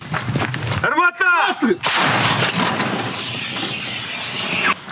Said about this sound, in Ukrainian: З радянської гаубиці Д-30 українські військові насипають москалями